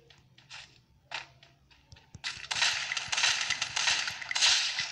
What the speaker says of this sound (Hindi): ओहो हो कितने फायरिंग कर रहे हैं